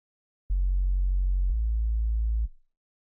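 A deep, pure synthesized sub-bass sine tone for an electronic track holds steady for about two seconds, dropping slightly in pitch halfway through, then fades out.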